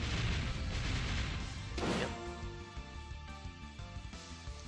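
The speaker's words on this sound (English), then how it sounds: "So comes Madara ultimate to wipe them all out," A loud crashing impact from Madara's ultimate attack in Naruto Blazing hits a group of enemies, followed by fading rumbles and layered game music and effects.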